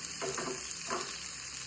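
About two kilograms of garlic frying in a pan, a soft continuous sizzle with a couple of brief stirring scrapes, fairly quiet and close.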